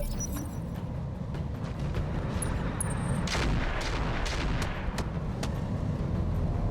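A heavy rifle fires in the BattleTech mech combat game, deep booming rumbles and cracking impacts layered over constant battlefield noise, several shots blending into a sustained roar.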